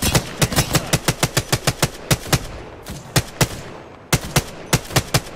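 R-301 rifle fire in Apex Legends comes in quick, sharp bursts of loud shots, with several pauses between volleys and a low background drone.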